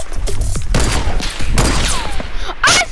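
A sniper rifle shot in Fortnite, a sharp loud crack with a booming tail, among several close gunfire bursts and thuds across a short stretch of game action.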